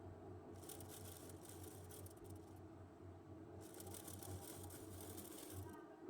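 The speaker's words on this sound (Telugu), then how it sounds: "ఎప్పుడైనా మీరు డబుల్ స్టిచ్ వేసేయండి ఖచ్చితంగా." Sewing machine stitching fabric from an old saree into a maxi dress, two bursts of fast, even mechanical whirring and needle clatter separated by a short pause, faint and close, with a low steady hum underneath.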